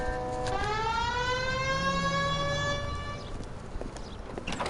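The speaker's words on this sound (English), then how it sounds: "Hit the siren." A police siren in the video game L.A. Noire wails with rising harmonic tones for a few seconds alongside clopping hooves and street noise, then fades.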